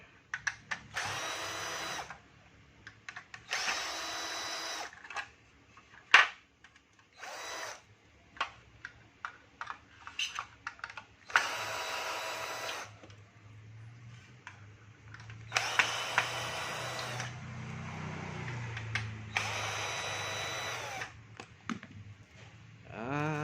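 A power drill at low speed removes bolts from a Honda PCX 160 motorcycle, in short bursts of whirring separated by pauses, clicks and handling noises, with no talking.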